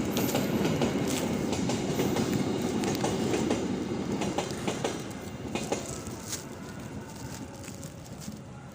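A train rumbles past close by along the rail line with a steady clatter of wheels, sharp clanks mixed in, and the noise slowly fades as it moves away.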